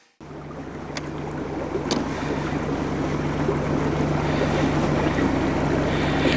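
Steady low engine hum of a narrowboat cruising along the Shropshire Union Canal, with broad water and wind rush building slightly and a couple of faint clicks, continuous and close.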